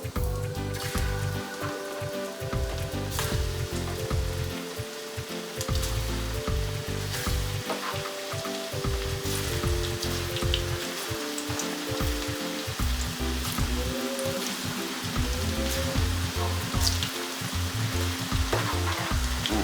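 Ripe plantains fry in a pan with garlic, a steady close sizzle and crackle of hot oil running throughout, with occasional stirring clinks and no talking.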